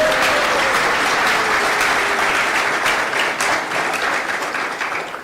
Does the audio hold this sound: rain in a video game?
no